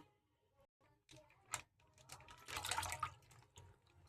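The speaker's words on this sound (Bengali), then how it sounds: "সমস্ত দুধটা দিয়ে দিলাম।" Milk pours into a cooking pot for dudh puli pitha, a soft liquid splash that swells near the middle and then trails off, quiet and close.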